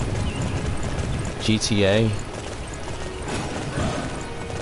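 A horse in the Dynasty Warriors 9 video game clip-clops along with steady hoofbeats, a loud whinny rising midway, while a person talks over it.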